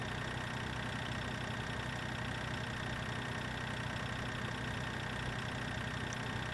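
A tractor engine in Farming Simulator 2013 labours up a slope, a steady droning mid-to-low engine hum with a faint knocking texture that runs evenly throughout, with no speech.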